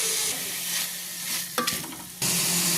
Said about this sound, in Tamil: இப்போ தக்காளி வந்து நல்லா வதங்கணும்.